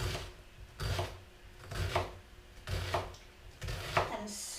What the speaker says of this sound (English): slowly cut through my onions until I get all roughly the same size